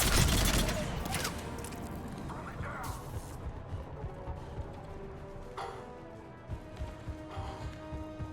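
Gunfire in the video game Mass Effect 3: heavy bursts of shooting and impacts, loudest at the start and then recurring in scattered volleys amid battle noise.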